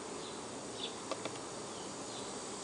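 A soft, continuous hum of honey bees rises from an open hive during an inspection, with a couple of brief clicks partway through and no speech.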